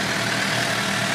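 A 2007 Suzuki GSX-R 750 sport motorcycle engine runs at high revs, a loud, close, steady buzzing roar sustained through the whole brief moment with no talk.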